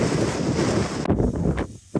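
Strong wind roars and buffets across a hilltop near Kinder Reservoir on the Pennine Way, a dense, loud gusting rush that briefly dips and flutters toward the end.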